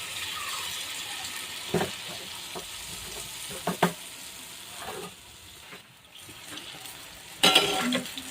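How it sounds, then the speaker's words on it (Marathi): Bhaji fritters deep-frying in hot oil, made as a traditional offering, give a steady crackling sizzle with occasional louder pops and a few brief clinks of a utensil; no one talks. "मी पूर्ण भजा आता अशाच तळून घेणार आहे"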